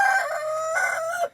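A chicken in a deep-litter winter coop lets out a drawn, tonal call, a single close, fairly loud vocalization of a little over a second that breaks in pitch partway through.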